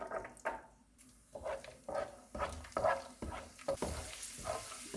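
Almonds fry in a pan for Afghani chicken pulao, with a soft background sizzle broken by repeated rhythmic scrapes and stirs, fairly quiet and close, with no voices.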